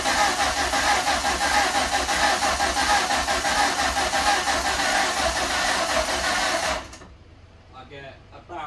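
A Ford Fiesta Mk1 with the windscreen out cranks on its starter for about seven seconds, a steady loud whirring churn that never catches, then cuts off into near silence with faint noises after.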